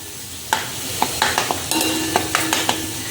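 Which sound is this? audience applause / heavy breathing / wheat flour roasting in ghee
wheat flour roasting in ghee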